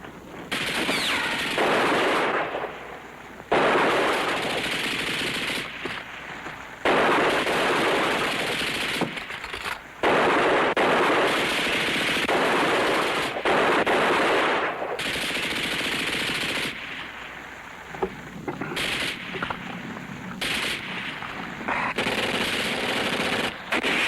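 Machine guns fire in long, sustained bursts in a war film, loud and close, broken by brief pauses between volleys over about twenty seconds.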